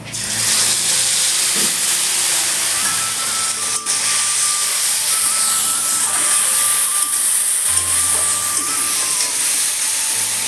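Spice paste of turmeric, chili powder and Kashmiri chili powder mixed with water hits a hot wok for a paneer and cauliflower dish, giving a loud, steady hiss and sizzle that continues without pause.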